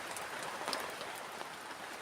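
Steady rain falling at night at a campsite, a dense continuous patter on surfaces with scattered individual drops, fairly close and even throughout, with no voices.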